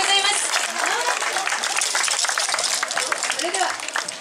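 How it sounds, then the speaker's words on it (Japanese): Audience applause after a yosakoi dance performance at an outdoor festival in Soka, loud and continuous, with voices and cheers from the crowd mixed in. "拍手ありがとうございます。"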